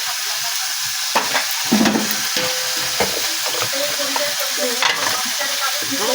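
Ginger and cumin paste sizzling in a hot pan as it is stirred, a steady frying hiss with scraping and clinks of the spoon throughout, close up with no talk.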